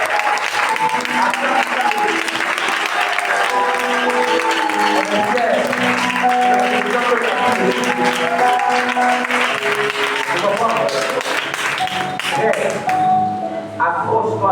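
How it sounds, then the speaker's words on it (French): A church congregation applauding to acclaim the Lord during a fasting and prayer service, sustained loud clapping from a large crowd throughout with voices mixed in, tapering off at the very end. "On peut acclamer le Seigneur."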